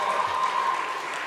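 An audience claps for a contestant's parent at a talent show qualifying round, a brief steady wash of applause, fairly close and even.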